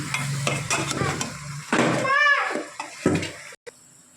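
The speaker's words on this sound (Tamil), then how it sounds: "தக்காளி சேர்த்தாச்சு, நல்லா கலரி விட்டுக்கலாம்." Tomatoes are stirred and sautéed in a pan, with sizzling and spoon scrapes alongside a speaking voice and a brief watery gurgle before a short pause near the end.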